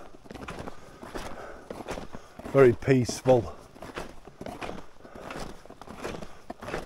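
Footsteps of a person walking through quiet woods, soft steady steps with a few louder crunching treads near the middle, mixed with nearby talk.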